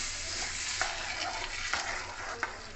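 Boiled green mango goes into a pan of spices for a raw mango chutney. It makes a soft sizzle and bubbling, and a spoon scrapes and clicks now and then as it is stirred, with no voices.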